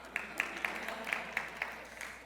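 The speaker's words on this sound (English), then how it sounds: "Since you're gonna clap for that." Faint, sparse clapping from a small seminar audience at a functional aging summit, a handful of distinct claps spaced unevenly over a couple of seconds, distant and thin.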